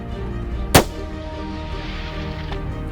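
A single sharp hunting rifle shot fired at a springbuck rings out near and loud, followed by a lingering outdoor echo and a faint second report in the distance.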